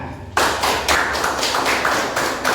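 A classroom group clapping hands in a distinct repeated rhythm, roughly a dozen loud, close claps in steady succession after a brief quiet start.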